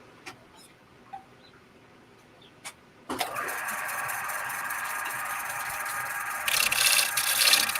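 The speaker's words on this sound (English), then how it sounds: "Just see if you can get that out with the gouge" A woodturning gouge cuts out a crack in a turned wooden piece, heard as a steady, continuous scraping hiss after a few faint knocks, growing harsher and louder toward the end.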